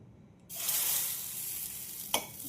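Thin semolina paratha batter hits a hot, dry, oil-free iron tawa over a low flame, bursting into a sudden loud sizzle that settles into a steady hiss, with one sharp clink partway through.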